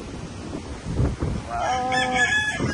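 Chickens and a rooster at a flooded seaside house, the rooster crowing clearly in the second half after scattered clucks, over steady water and wind noise.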